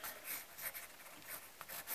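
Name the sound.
drawing a picture on paper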